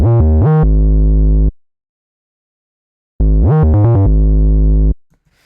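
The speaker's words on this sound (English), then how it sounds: "Then we have the iconic 808s." Two deep Roland 808 bass drum notes sound, each sliding in pitch before settling into a long booming sustain, separated by a short silence, loud and close with no voices.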